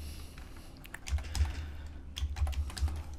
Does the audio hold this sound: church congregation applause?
no